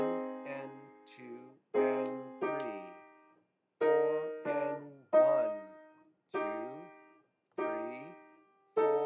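Right-hand melody of the hymn tune St Cuthbert played on a keyboard, single-note phrases in separate groups with short gaps between, moderate tempo, clear and alone without talk.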